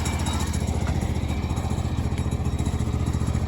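A go-kart powered by a 15 hp Ford Model A engine runs steadily as it backs up in reverse, a loud, continuous engine drone with a fast regular chugging pulse throughout.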